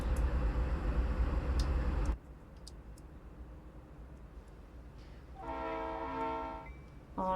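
A CSX locomotive horn sounds in a long, loud, close blast over engine rumble, then after a quieter stretch a second horn honk rings out with strong tonal layers.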